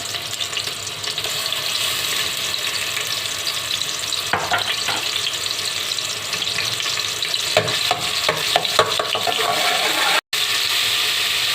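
Ginger and garlic paste fries in a pan, a steady, fairly quiet hiss and sizzle throughout with occasional stirring scrapes and a brief cut near the end.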